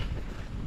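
Steady, low rumbling wind at Sembawang Beach, Singapore, buffets the microphone, a continuous gusty roar with no other distinct sounds.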